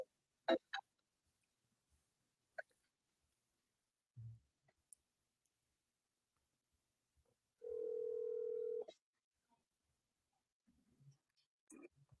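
A phone call being placed: a few sharp dialing clicks, then a single steady ringing tone lasting about a second, with quieter clicks and taps after it. Everything sounds soft and close, with no talking.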